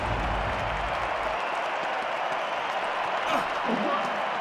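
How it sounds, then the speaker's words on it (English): Steady crowd applause and cheering fill a stadium during the Mexico competitor's turn in a London 2012 Olympics video game, a continuous dense roar with a brief low rumble at the start. "Well, the crowd definitely up for this event."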